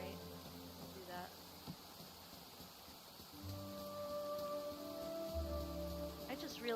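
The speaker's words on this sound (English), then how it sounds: "I just realized it's raining." Soft, steady rain falls in the Shire of the video game Tales of the Shire, a faint continuous hiss with low tonal game music and sounds layered over it.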